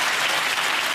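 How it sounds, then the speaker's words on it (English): Studio audience applauding on a comedy panel show, a full, continuous wash of many hands clapping at steady volume for a short stretch, with no voices. "a big round of applause for Dodd."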